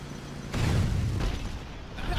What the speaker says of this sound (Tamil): இதை வெடிக்க வைக்கணும்னு நினைக்கிறேன்.